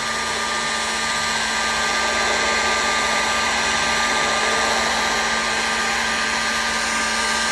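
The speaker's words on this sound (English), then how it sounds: "So it looks like I found the right height, which for this heat gun is about 3 inches above the surface." Heat gun blowing hot air over a wooden aircraft-style frame bay from about three inches away, a steady, loud continuous whirring roar with an even hiss that holds unchanged throughout, no talking.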